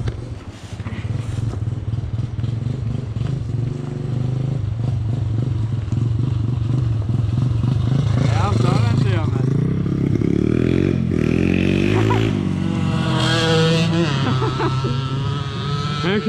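A Yamaha Aerox scooter runs downhill at full speed, its steady engine drone loud and close throughout, with wind noise and excited voices talking over it.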